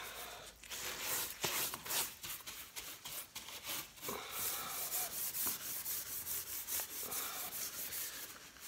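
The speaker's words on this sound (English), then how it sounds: "I'm just wiping it on lightly, not going crazy with it, just to get it started." Steel wool soaked in vinegar wiped lightly across a wood surface gives a steady close scratchy rubbing with repeated strokes, and no talk is heard.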